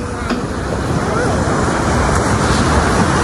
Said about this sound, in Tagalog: Malalaki yung alon dito.